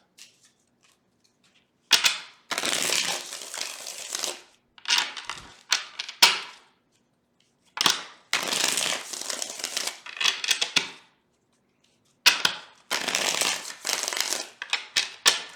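Tarot cards being shuffled in repeated bursts of riffling and crisp card snaps, separated by short pauses, close and fairly loud with no talking.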